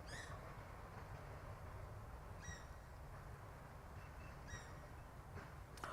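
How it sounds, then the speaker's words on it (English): A steady low rumble of a tram passing at a distance, with occasional bird calls chirping over it. "But I can hear the tram going. There it goes."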